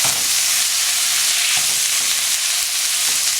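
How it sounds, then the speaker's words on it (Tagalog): Pork frying in a pan for pancit bato guisado, a steady loud sizzle with occasional stirring scrapes throughout, no talking. "so lulutuin lang natin itong pork"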